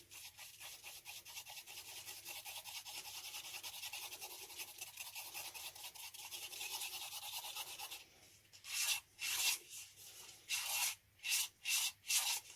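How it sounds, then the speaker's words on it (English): Jesmonite mixture being stirred in a container for a terrazzo candle holder, a steady close scraping rub for several seconds, then louder separate strokes in quick bursts near the end. "So now we are just incorporating these together, giving it a good stir."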